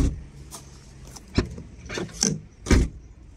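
Trunk lock mechanism on a Volkswagen Polo 5 (6R) working after repair: a few short close mechanical clicks and motorized whirs, with quiet handling noise between them and no talk.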